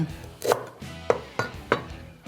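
Fresh ginger, peeled with a spoon, rasped against a kitchen grater in about four distinct close strokes, each a short scraping burst separated by brief pauses.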